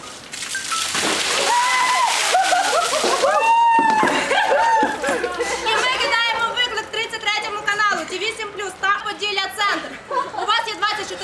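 Ice-cold water from an ice bucket challenge splashes down on a group, with shrieks, laughter and loud excited chatter from several people around it.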